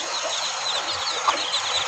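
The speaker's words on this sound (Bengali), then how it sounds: "এইখানে দেখেন আমাদের আরেকটা মুরগির বাচ্চা" Dense chorus of native chicken chicks, about 10 to 12 days old, chirping and peeping continuously, close and fairly loud, with no talking.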